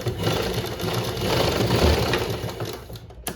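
A sewing machine runs a continuous stitching line while a sleeve is joined to a garment at the side seam, a close, steady mechanical whir that stops abruptly near the end.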